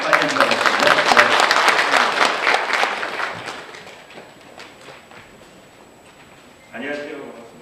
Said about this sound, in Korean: 여러분 박수 크게 맞으시기 바랍니다.